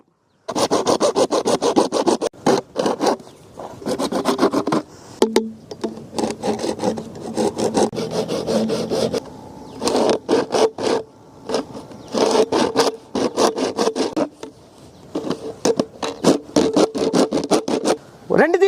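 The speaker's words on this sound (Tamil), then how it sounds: "அடுத்து பாத்தீங்கன்னா ஆக்ஸா பிளேடு இதை கட் பண்றதுக்கு" A hacksaw blade cutting plastic pipe, with close, loud rhythmic back-and-forth rasping strokes in bursts and short pauses between them.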